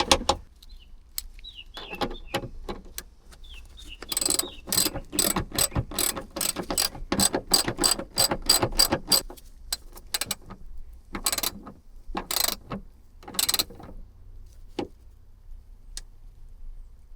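Ratchet tightening a bolt on a rear hatch support strut of an SS, a close series of sharp rapid clicks in bursts with short pauses, fairly quiet and without talk.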